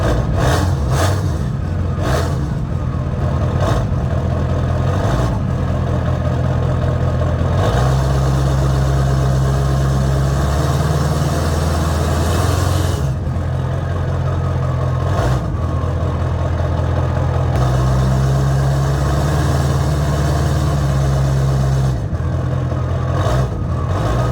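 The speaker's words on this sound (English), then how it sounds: "I'll let the diesel warm up for a second" A diesel Ford Ranger engine idles while warming up, giving a loud, steady rumble throughout with slight shifts in pitch and some clattering, and no voices over it.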